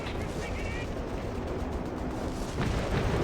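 An artillery overwatch barrage in the video game Company of Heroes 3 fills the clip with a dense, continuous roar of shelling and rumbling blasts, loud and sustained throughout.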